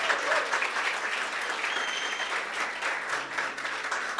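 Church congregation applauding steadily in a worship service, a sustained wash of many hands clapping at moderate level with faint voices beneath.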